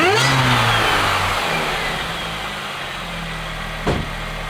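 A stock Mini's engine fires up with a rising rev, then settles into a steady mid-pitched idle close by, with a short clunk near the end.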